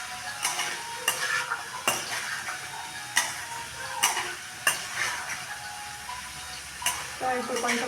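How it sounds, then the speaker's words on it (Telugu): Sprouted chickpeas and carrot fry in a pan, a soft steady sizzle under repeated sharp clinks and scrapes of a utensil stirring against the metal, close by and without talk. "సో ఇప్పుడు కొంచెం ఫ్రై అవ్వనివ్వండి దీన్ని."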